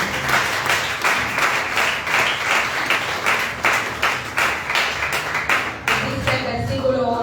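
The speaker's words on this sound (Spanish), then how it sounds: "Bríndele un fuerte aplauso al Señor." A church congregation claps loudly and steadily in continuous rhythmic applause for several seconds, with a brief voice or cheer mixed in near the end.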